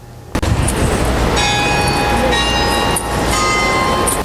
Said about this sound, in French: Les cloches sonnent ce matin pour le carême à l'église Saint-Pierre et Saint-Paul de Pointe-à-Pitre